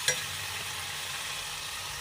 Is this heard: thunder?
no